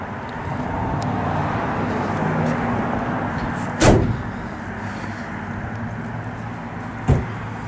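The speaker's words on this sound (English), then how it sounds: "Car drives beautifully down the road, cruises right along." A 1967 Chevrolet Chevelle SS 396 drives down the road: a steady vehicle rumble and road noise carry on throughout, with two sharp knocks or thumps punctuating the drive.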